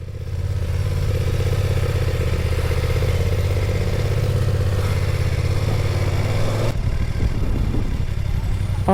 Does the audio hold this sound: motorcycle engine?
yes